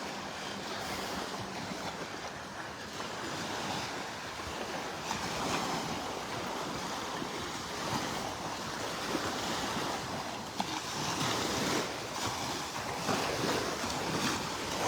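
Ocean surf washing continuously onto a beach in North Naples, Florida, a steady wash of breaking waves with wind buffeting the microphone throughout and no voices.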